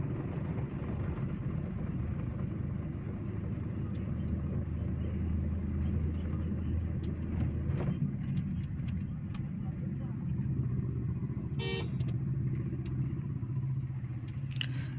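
A Toyota Innova with about 130,000 km, running on a carbon antidote treatment, drives through the gears. Its engine gives a steady low rumble inside the cabin, and a voice can be heard faintly over it.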